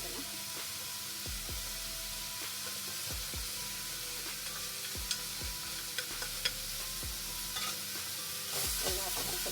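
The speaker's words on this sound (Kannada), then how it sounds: "ಎಲ್ಲ ಹಾಕೊಂಡು ಸ್ವಲ್ಪ ಫ್ರೈ ಮಾಡ್ತೀನಿ" Coriander powder, chilli powder, cinnamon and cloves frying in a pan for sambar, a steady close sizzle with repeated soft scraping stirs and a few sharp clinks, no talking.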